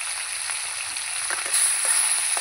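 Bhola fish pieces fry in hot oil in a pan, a steady close hiss that swells slightly partway through, with a few faint knocks and no talking.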